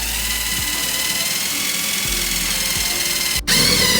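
A power drill runs steadily, driving a self-tapping bolt into the fender of a fourth-generation Camaro/Firebird F-body, its whine continuous and close before cutting out abruptly near the end.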